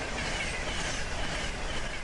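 A passenger train rolls steadily past on a Network Rail line, a loud, continuous rushing rumble with broad noise and no pauses, carrying on without any talk.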